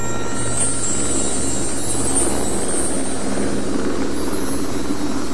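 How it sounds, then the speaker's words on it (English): A tour helicopter flying over Kauai, heard from on board, gives a loud, steady drone of engine and rotor that holds unchanged throughout, with no voices. "It's really spectacular to be able to tour Hawaii from the air, especially in a helicopter"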